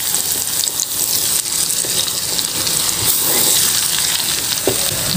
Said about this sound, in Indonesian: Diaduk lagi.